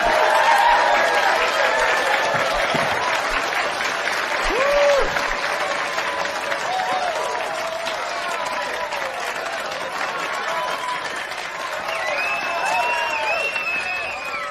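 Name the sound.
audience applause and cheering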